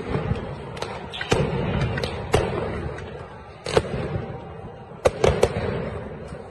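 Stun grenades exploding during a clash between Israeli forces and worshippers at Al-Aqsa Mosque, giving sharp loud bangs scattered over a few seconds against a dense background of crowd noise and commotion.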